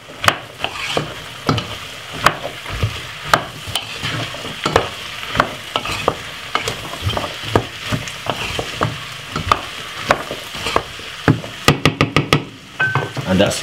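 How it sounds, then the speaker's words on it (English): Vegetables being stirred in a hot pot while they fry for a creamy sweet potato soup: steady sizzling under repeated scraping and knocking strokes of the spoon against the pot, close and fairly loud, with no talking. "give it a good stir."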